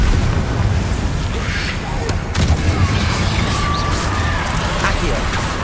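Blasting spell explosions in the Hogwarts Legacy video game, booming low rumbles set against dense, continuous battle noise, with overlapping impacts and no clear gaps between them.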